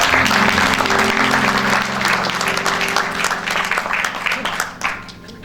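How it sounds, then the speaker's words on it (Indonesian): Warm audience applause welcoming a speaker named Bapak Paulus, a full, steady round of clapping from a sizeable crowd with a low hum underneath, tapering off toward the end. "kita sambut dengan tepuk tangan yang meriah Bapak Paulus"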